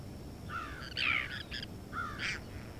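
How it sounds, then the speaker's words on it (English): Crow cawing from up in a tree near water, several harsh calls in two short bursts, fairly close and clear over quiet outdoor background. "The crow up in the tree."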